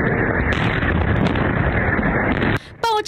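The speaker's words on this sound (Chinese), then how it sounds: "爆炸声、警报声响不停" Missile strikes on Kursk: a loud, sustained roar of blasts and rumble fills most of the recording, then cuts off abruptly, followed by a brief rising siren-like alarm tone at the end.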